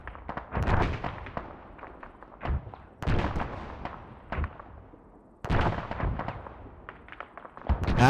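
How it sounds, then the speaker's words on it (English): Mortar shells exploding in the video game Arma 3 Antistasi, three loud booming impacts with rumbling tails and scattered crackle between them. "Mortar incoming."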